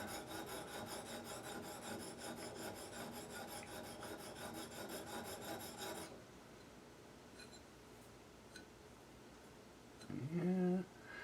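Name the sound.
sharpening serrated stainless steel blade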